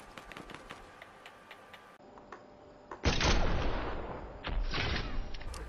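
A gunshot in the video game Fortnite: a sudden loud crack followed by a burst of heavy gunfire and impacts, after a stretch of quiet ticking ambience.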